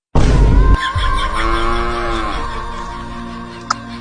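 A cow gives a loud, drawn-out moo close by. It starts with a harsh onset and then holds a long harmonic low tone for several seconds. A brief knock comes near the end.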